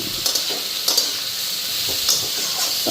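Food fries in a pan with a loud, steady hiss and a few soft stirring knocks, heard close and without any talking.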